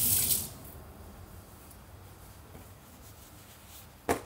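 Tap water runs steadily as hands are washed, with a louder splash at the start and another sharp splash near the end, otherwise a soft continuous flow.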